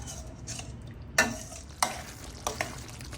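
A spoon stirs aloo batani curry of potatoes and peas in a pan over a low simmering sizzle, with a few sharp scraping clinks against the metal spaced irregularly.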